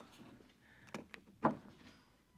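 A door on one of several newly arrived American vehicles, among them a Ford Bronco, Chrysler Pacifica and Dodge Challenger, opens with a soft click and then a sharper thunk. Both sounds are quiet and come over a faint room background.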